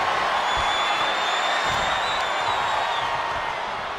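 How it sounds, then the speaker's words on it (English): A large arena crowd in the video game WWE 2K23 roars steadily and loudly at a wrestling show, with a constant dense wash of cheering and no talk. "The sound of this crowd is deafening, and he's asking for more."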